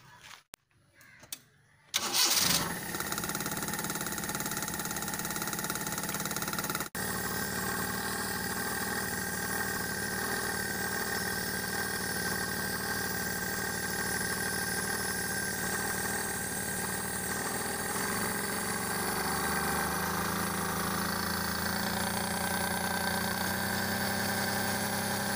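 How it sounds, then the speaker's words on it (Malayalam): A Maruti 800 with a carburetor and low idle RPM cranks briefly after a few seconds of quiet, catches, and settles into a steady close idle hum that runs to the end. "അപ്പോൾ നമ്മളടുത്ത് വാഹനം സ്റ്റാർട്ട് ചെയ്യണം."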